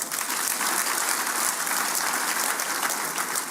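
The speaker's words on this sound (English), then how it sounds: "I think you should clap for him." Audience applause at a celebration honouring a former Nigerian head of state's 90th birthday, a dense, steady clapping from a large crowd, sustained and fairly loud throughout.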